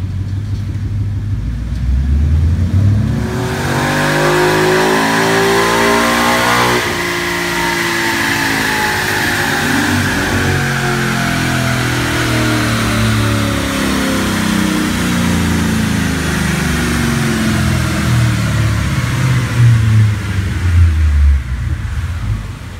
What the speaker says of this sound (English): take a look at the dyno pull, and you're gonna be really surprised at what you see.